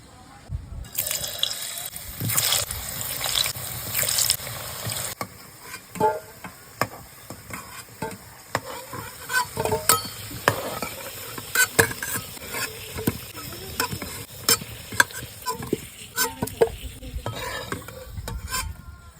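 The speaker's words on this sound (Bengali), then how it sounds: "আলুটা ভেজে নিলে তরকারির স্বাদই হয় আলাদা তো আলুটাই প্রথমে ভেজে নেবো" Chunky potato pieces frying in mustard oil for a mutton curry, crackling loudly at first and then sizzling steadily under frequent scraping and clinking of a stirring spoon, close up and without speech.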